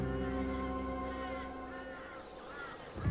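Crows caw repeatedly while scavenging at a wedge-tailed eagle's kill, a harsh, close chorus of overlapping calls that trails off and ends with a brief thump.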